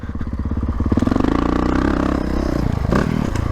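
Honda CRF450RL motorcycle engine lugging in third gear, a low, heavy, uneven chugging throb with clattering mechanical noise, loud and close, continuing without pause and rising briefly near the end.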